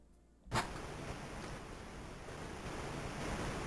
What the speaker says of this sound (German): jetzt lasse ich das Wasser wieder ab